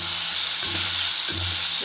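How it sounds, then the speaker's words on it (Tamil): Tomatoes for an Andhra-style tomato and coriander chutney sauté in a hot pan, giving a close, steady sizzle with a few soft stirring scrapes. "இப்போ தக்காளி நல்லா வதங்கிடுச்சு"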